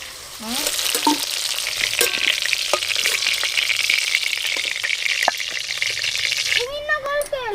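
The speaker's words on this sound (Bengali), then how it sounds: "ক্যাপসিকাম কিন্তু আমি একদম পেঁয়াজের মতো লাল লাল করে ভাজবো না, একটু হালকা করে ভেজেই তুলে নেব" Capsicum frying lightly in hot oil, a loud, continuous sizzle with stirring clicks and scrapes, and a voice briefly speaking over it near the start and end.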